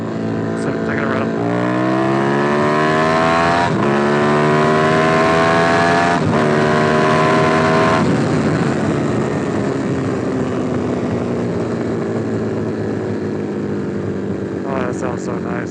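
A Buell 1125R motorcycle engine revving while riding, rising and falling in pitch through several gear changes, loud and close, then settling into a steadier drone toward the end.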